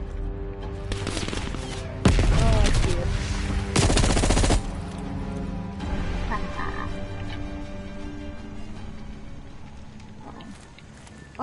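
Gunfire in Call of Duty Cold War: dense bursts of shots around the two- and four-second marks over a steady game soundscape, with smaller sporadic reports trailing off afterward.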